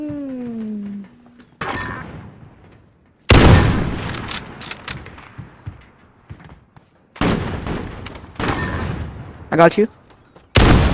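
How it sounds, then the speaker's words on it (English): Gunfire from Call of Duty: Modern Warfare erupts in several loud bursts of rapid shots with short pauses between, while players talk over the action. "I tried to shoot at you. Oh, I just shot at my teammate."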